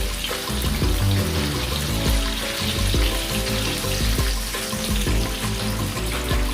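Fish fries in hot oil after being turned to its second side, a dense, even sizzle that hisses and bubbles steadily at close range, with low kitchen clatter underneath and no talking.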